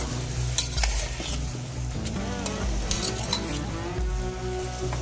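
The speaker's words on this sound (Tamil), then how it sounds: "இந்த எண்ணெயில் தான் கத்திரிக்காய் நல்லா வேகணும்." Eggplant sizzles steadily in plenty of hot oil while a utensil stirs it, with scraping strokes and occasional clinks against the pan over a constant crackling fry.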